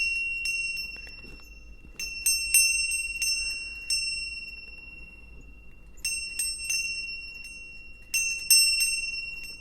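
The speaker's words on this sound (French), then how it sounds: "elle m'a envoyé une magnifique cloche" A bell from Nepal struck several times, each bright metallic ring sustaining and decaying, some strikes in quick clusters, close and clear.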